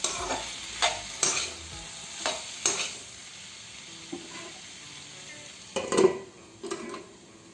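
Whole cumin seeds and turmeric frying in oil in a pan, a soft steady sizzle broken by periodic scraping stirs of a utensil against the metal, fairly quiet and close.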